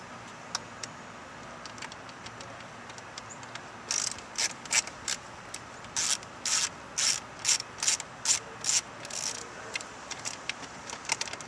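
A ratchet backing out a screw from a Honda Civic dashboard panel near the driver's side mirror adjuster, making rapid clicking strokes in close, repeated bursts with no voices.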